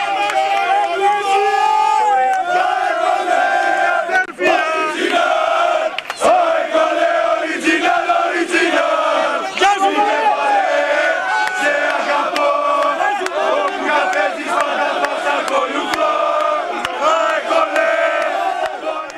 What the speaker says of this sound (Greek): οι φίλαθλοι χειροκρότησαν και επεφημούσαν τους αγαπημένους τους παίκτες